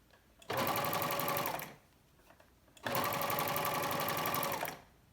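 An Elna Pro 5 DC sewing machine stitches shirring rows in two close, steady bursts of rapid whirring, each lasting about one to two seconds, with a quiet pause between them.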